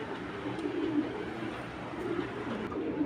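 Racing pigeons from a foreign bloodline cooing nearby in a low, continuous, throaty rolling murmur that swells and falls in a steady rhythm, with no one speaking.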